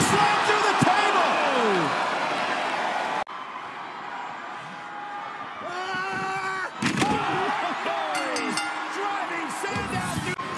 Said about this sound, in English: Choke slam through the table.